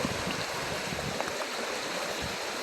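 Small rapids on a creek give a steady, broad rushing and gurgling of water, close by and unbroken, with no voices.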